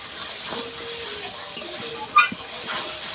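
Cumin paste sautéing in a pan for a fish curry with bitter gourd, a soft steady sizzle with scraping stirs and a couple of sharper utensil taps near the middle, no talking.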